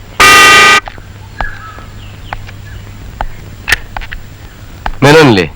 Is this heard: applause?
no